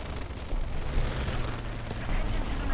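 Aircraft machine guns rattle in War Thunder air arcade combat: sustained, rapid bursts of gunfire with deep booming thuds underneath, loud and continuous over the whole stretch.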